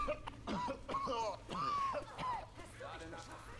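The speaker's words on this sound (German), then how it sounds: "Ich höre euch nur husten da hinten." Zombie-infected characters in Left 4 Dead 2 cough and rasp in short gurgling bursts amid game noise, while players talk over them.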